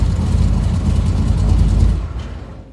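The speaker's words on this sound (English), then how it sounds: "That's what it sounds like when I rev it up." A 1966 Corvette engine revs up loudly and close, a dense low rumble holding steady for about two seconds before dropping away as the throttle falls back.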